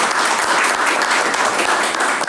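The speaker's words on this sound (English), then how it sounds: "if you give him a big round of applause" Loud, sustained applause fills a community service committee meeting room, many people clapping together in an even, continuous roar from start to finish.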